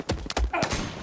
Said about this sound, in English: Oh god, he's shooting me.